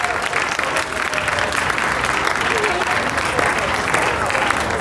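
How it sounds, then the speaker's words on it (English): A festival crowd at the Moon & Stars country and roots music festival gives a loud, sustained round of applause for the sound and lighting crew, a thick steady roar of clapping with crowd noise. "give them a massive round of applause"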